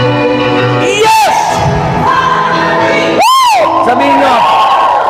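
A church congregation at an outdoor evangelistic gathering in Batangas City lets out loud shouts and whoops, two big swelling cries rising over a constant roar of crowd noise.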